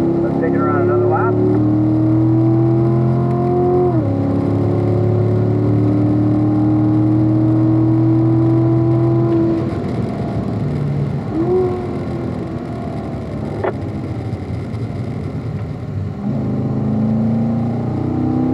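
A car laps a track that includes a banking coming downhill. Its engine drones steadily and loudly up close, with the pitch rising and falling as it accelerates, shifts and eases through the turns.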